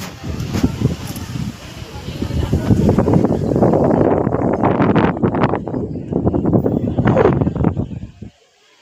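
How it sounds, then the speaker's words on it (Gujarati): Strong wind blows under gathering rain clouds before any rain falls, roaring and buffeting the microphone in loud rising and falling gusts, then cutting off abruptly; a voice speaks at times. "વરસાદ આવ્યો નહીં પણ પવન હજી ચાલુ।"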